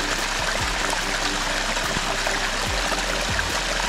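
Rainwater runs down a trekking trail in Dzukou Valley, Nagaland, like a small stream, a continuous close rushing wash of water with no voices.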